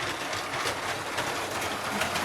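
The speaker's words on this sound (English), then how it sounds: "So as you can see, the train's going there." Lego City toy train running on its plastic track, a steady close whirring rumble with faint rhythmic clicking, continuous and even in level, no talk.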